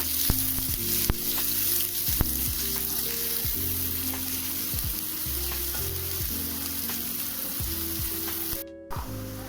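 Onion frying in a pan for a potato filling, a steady close sizzle with scattered crackles and intermittent scraping stir strokes, alone without talk, cut off by a brief dropout near the end.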